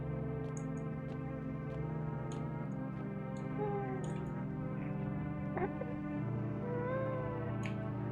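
A cat meows repeatedly in the video game No I'm Not a Human, with a few rising plaintive cries set over a steady droning game soundscape.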